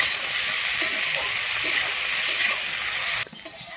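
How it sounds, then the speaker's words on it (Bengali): Flat beans (sim) frying in oil in a pan, a steady broadband sizzle with occasional stirring scrapes, loud and close, cutting off abruptly near the end. "আমি সিমটাকে এবারে কিন্তু লাল করে ভেজে নেব"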